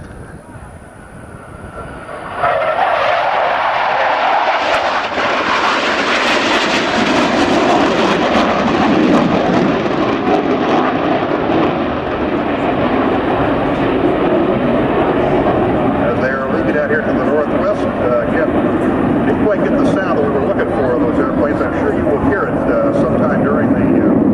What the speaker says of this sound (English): the F-104 does have a very distinctive sound to it